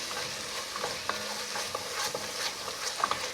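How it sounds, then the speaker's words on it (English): Lentils with browned onions and chili powder stirred in a pan, soft scraping strokes over a steady low sizzle, close with no talk. "give this a quick stir."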